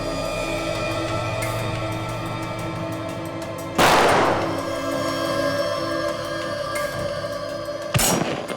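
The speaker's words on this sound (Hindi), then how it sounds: "हाँ अभिजीत, गोलियां तो चली है" Two sharp, loud gunshot bangs several seconds apart, played back from a video, each with a short reverberant tail, over a steady background hum.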